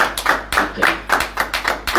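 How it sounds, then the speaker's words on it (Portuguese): A few people at a church gathering clap hands in irregular sharp bursts, close and fairly loud, with brief gaps between claps. "uma salva de palmas para o profeta"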